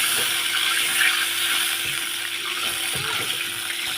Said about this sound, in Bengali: অনেকটা পরিমাণে জল দেবো।